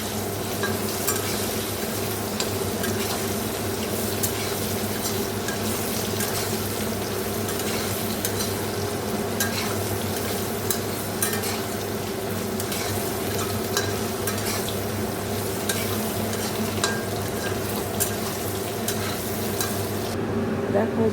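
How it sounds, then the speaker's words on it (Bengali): Salted paneer pieces sizzle and fry steadily in a pan, with occasional stirring scrapes, a continuous close crackle throughout. "নুন মেখে আমি পনিরগুলো ভেজে নিচ্ছি"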